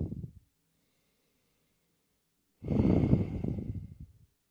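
Deep breathing during a beginner dynamic yoga session: a short exhale at the start, a pause of silence, then one long, close, airy breath lasting over a second, alone.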